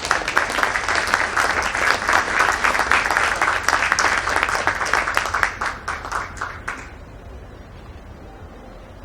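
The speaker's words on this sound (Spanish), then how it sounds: "Vamos a recibirlo con fuertes aplausos." Strong, sustained audience applause welcoming Peruvian poet Jorge Nájar at an evening book presentation, dense clapping that thins and fades out toward the end, leaving near silence.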